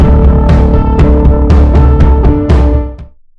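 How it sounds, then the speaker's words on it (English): Music plays through a low pass filter: sustained notes under a steady rhythm of hits, loud at first, then fading out after about three seconds, with no talking. "This is how it sounds with a low pass filter on."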